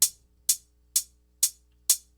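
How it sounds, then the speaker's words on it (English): Closed hi-hat in a techno track ticking alone in an even loop, five crisp bright hits about half a second apart, each with a short decaying tail over a faint low hum. "So I've got just this closed hat main playing here."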